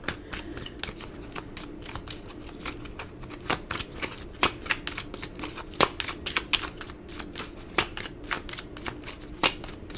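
Tarot cards being shuffled by hand, a soft steady riffling with sharper snaps at irregular intervals, close and fairly quiet, with no talking.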